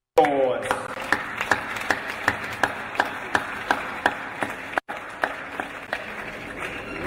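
Applause from the audience at a Ghanaian book launch, after the first copy is presented to the Asantehene, Otumfuo Osei-Tutu II. Steady clapping fills the room with sharp, regular accents, and voices carry faintly underneath.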